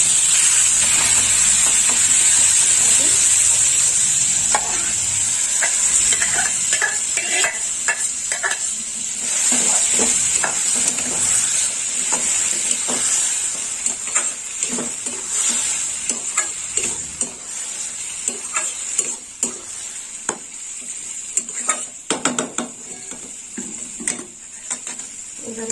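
Pointed gourd fries in a pan with whole spices and turmeric powder, giving a loud steady sizzle and hiss, broken by repeated scraping and clattering stirring strokes that get sparser as the sizzle settles.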